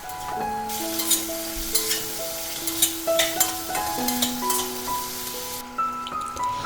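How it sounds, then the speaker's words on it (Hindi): Thinly sliced onions sautéing with spices and ajwain in oil in a kadai, a steady close sizzle and hiss with light stirring clinks, under soft background music with no talk. "थिनली स्लाइस की हुई जो अनियंस हैं उनको थोड़ा सा यहाँ पे सौते कर लेंगे"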